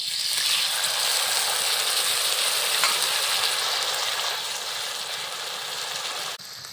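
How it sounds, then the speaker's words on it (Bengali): Marinated prawns fry in mustard oil in a wok with a loud, steady sizzle that runs unbroken for several seconds and then drops away abruptly at the end. "ম্যারিনেট করে রাখা চিংড়ি মাছগুলো দিয়ে দেব।"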